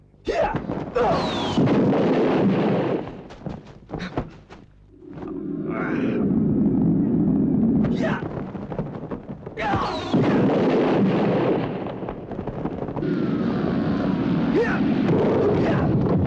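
Deep booming blasts roll out in heavy bursts, loud and close, with roaring rumble between them and a brief stretch of quieter sound in the middle.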